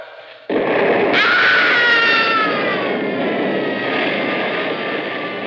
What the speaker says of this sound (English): That was Artie screaming. Artie being blown to bits all over again